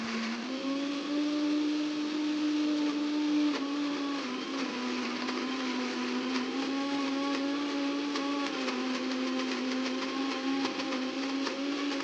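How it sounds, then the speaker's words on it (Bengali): A mixer grinder blends peas, ginger and green chili into a paste, giving a steady, loud, close motor whine with a sustained pitch that shifts slightly as the load changes throughout. "তারপর ভালো করে ধুয়ে 2 কুচি আদা, কিছুটা কাঁচা লঙ্কা দিয়ে মিক্সিতে ভালো করে পেস্ট বানিয়ে নিলাম।"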